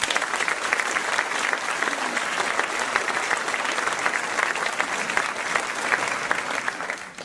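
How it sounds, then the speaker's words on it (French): A large audience at a mayor's New Year reception in a town hall applauds in a steady, dense wash of clapping that holds at one level for about seven seconds and then begins to fade at the end. "Je vous demande de les applaudir."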